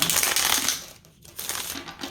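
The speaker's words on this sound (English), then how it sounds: "I've noticed that my shuffling is really loud" Papers or cards shuffled right next to the microphone, giving a loud, continuous rustling and scraping that dips briefly mid-way before picking up again, with no voices.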